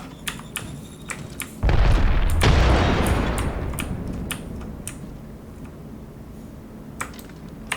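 A frag grenade explodes in the game Apex Legends with a sudden heavy boom and a long rumbling decay that fades over several seconds, while rapid keyboard typing and clicks patter sharply before and after.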